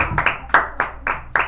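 Clapping in a church service as the congregation gives a round of applause to Jesus Christ, a few uneven bursts of hand claps rising and fading over a short stretch.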